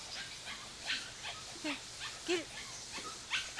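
An eight-week-old puppy gives soft whimpers and short yips at intervals of about half a second, close by, while a person speaks briefly.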